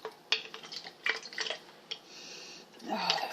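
A spoon stirs ginger, sugar and water in a glass jar, giving light scattered clinks and taps at close range, sometimes more rapid, sometimes pausing, with a soft scraping swirl near the end.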